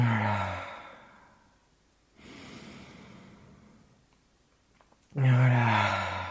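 Deep breaths during a guided hyperventilation breathing exercise: a strong inhale at the start, a softer airy breath in the middle, and another loud, close inhalation at the end.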